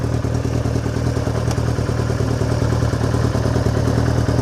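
A 1974 Kawasaki Z1 900 motorcycle engine runs steadily and loudly up close during a demo ride, a constant low rumble with mechanical clatter and no talking.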